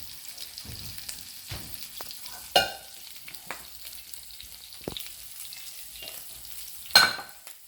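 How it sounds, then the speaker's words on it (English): Meatballs sizzle steadily in a pan as they finish cooking, a soft continuous frying hiss with a couple of sharper clinks and pops, no talk. "while these meatballs are finishing cooking"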